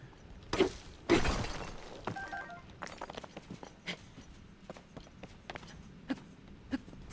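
Zonite ore deposits smashed in a Zelda game, two heavy cracking shatters close together at the start, followed by a scatter of lighter crunches and tumbling fragment clicks.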